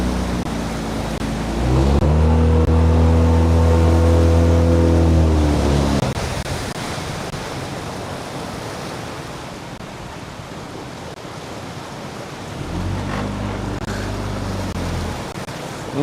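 Big whitewater rapids roar as paddle rafts pass through massive waves, a continuous broad rush of water. A boat engine drones loudly over it for a few seconds, fades, then returns near the end.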